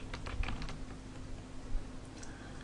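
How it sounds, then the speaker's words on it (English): Someone types on a computer keyboard close by, with quick bursts of key clicks early on that thin out to sparse taps over a low steady hum. "I'm now going to type Merry Christmas,"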